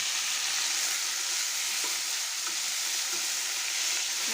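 Spinach fries and is stirred in a pan, a dense, continuous sizzle with a few faint scrapes of the spoon, close and steady, with no speech.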